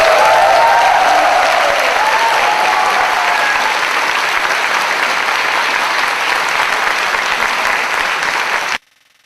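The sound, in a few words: audience applause after a lecture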